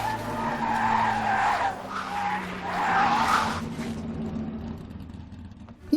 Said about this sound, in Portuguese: Um acidente proposital acontece entre os outros dois carros que disputavam com o Relâmpago.